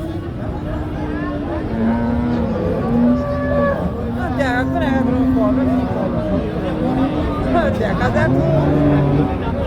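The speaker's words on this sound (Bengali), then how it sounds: "বেশ বড় একটা গাভী" A large crossbred Friesian dairy cow moos repeatedly at a busy cattle market in Jessore, long low calls close by, with bargaining voices and crowd chatter underneath.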